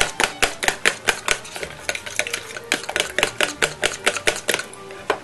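Eggs beaten together in a bowl, a fast steady rhythm of clicking whisk or fork strikes against the bowl, close and clear with no talking.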